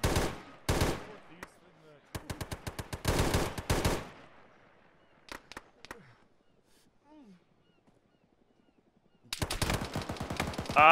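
Several loud bursts of rapid automatic fire in an Arma video game, close and sharp, broken by silent stretches and a few isolated single shots, with a final long burst at the end and no talking.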